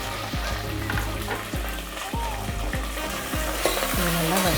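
Onion, green chilli and curry leaves sauté in a pan for rice upma, with a steady close sizzle and regular scraping stirs about every half second.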